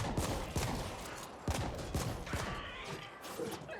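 Rapid gunfire in The Ascent, a dense stream of sharp repeated shots with a few heavier bangs, loud and continuous throughout.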